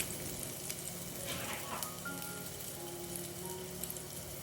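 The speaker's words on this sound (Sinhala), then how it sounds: "දැන් මේ ඔක්කොම හොඳින් කලවම් කරලා ටෙම්පරාදු කරගන්නවා." Garlic and dried chillies sizzle in hot oil while being tempered for a Sri Lankan corn curry, a steady close crackling fry with scattered pops throughout and no voices.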